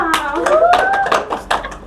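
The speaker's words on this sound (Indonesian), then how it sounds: "Beri tepuk tangan dong." A group of students in a classroom claps briefly for their classmates during a biology lesson, the quick scattered claps heard close and mixed with a voice talking over them.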